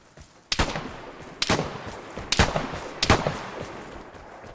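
Gunfire in the video game Vigor, four loud sharp shots spaced about a second apart, each ringing out with a short echoing tail over quiet background.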